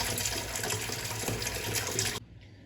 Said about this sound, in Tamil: இப்படி ஒரு பாத்திரத்தில் தண்ணி ஊற்றி ஊற வச்சிடலாம்